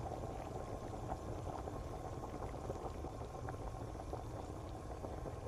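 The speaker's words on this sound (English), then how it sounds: "Oh, I hear boiling noises." Steady bubbling of water at a rolling boil in a pot in the video game Home Deception, a constant close-up simmer with small pops and no voices.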